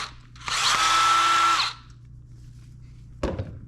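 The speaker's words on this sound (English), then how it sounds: "You just need a drill. You're going to undo the two screws here" A power drill whirs for about a second in one steady burst, backing out screws on a brush block, then falls silent before a brief clatter near the end.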